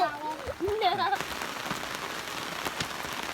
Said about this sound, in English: They got caught in the rainstorm.